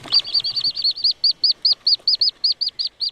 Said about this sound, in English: In the safety of their Finnish forest treehouse, the golden-eyed ducklings have at last made an appearance.